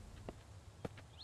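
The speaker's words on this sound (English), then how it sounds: "I heard a footstep." Faint footsteps in the survival game Mist Survival, two or three soft, separate steps heard quietly over a steady background hiss.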